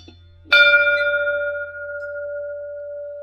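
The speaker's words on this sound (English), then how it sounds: "Here's the Silverton school bell." Historic Silverton school bell, from a school open 1880 to 1970, struck once with a loud clang that rings on in a long, clear, slowly fading tone.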